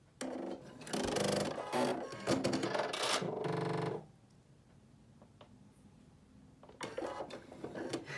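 A domestic sewing machine runs in a loud, rapid mechanical burst for about three seconds after power returns, then stops, leaving quiet room tone before faint clicks and handling noises resume.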